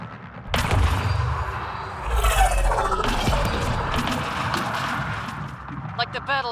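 Gunfire and explosive impacts ring out during a Mass Effect Andromeda battle, with bursts, crashes and rumbling behind shouting voices.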